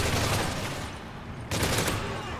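Rapid machine gun fire in the shooter video game Modern Warfare 3, a dense continuous burst of shots, loud and close, briefly thinning before resuming.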